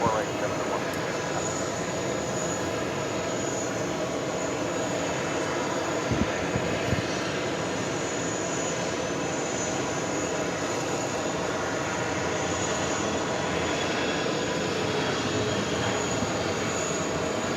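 A Boeing 787 heavy jet on short final into JFK produces a steady, fairly loud engine roar that holds constant, with faint air traffic radio talk underneath.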